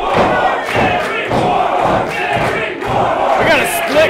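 A loud wrestling crowd at a Bizarro Lucha independent show, cheering and chanting in rhythmic swells throughout, with a few thuds and shouts mixed in.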